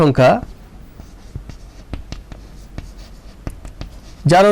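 A pen scratches out short, separate strokes on paper during a chemistry lesson on redox reactions, with a teacher's voice speaking briefly at the start and at the end.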